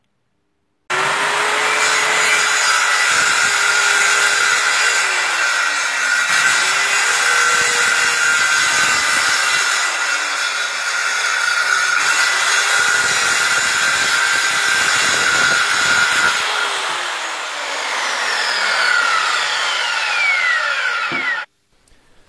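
A handheld circular saw whines loudly as it cuts through wood, a long continuous pass with slight dips in pitch under load, then spins down.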